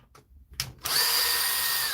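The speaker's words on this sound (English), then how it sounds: "I'm obsessed with screwdrivers, cordless screwdrivers." After a few faint clicks, a cordless screwdriver whirs up and runs steadily for about a second, close and loud, its motor whine holding level to the end.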